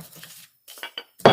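A metal spoon clinks a few times while scooping meat filling for meat pies at a camp cook stove, close by, with brief sharp taps and a louder final clank after quiet gaps.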